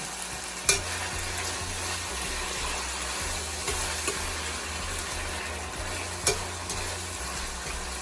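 Onion, sweet pepper and tomatoes fry in hot oil for an ackee and saltfish dish, giving a steady, close crackling sizzle with a couple of sharp clinks of a utensil against the pan, no voices.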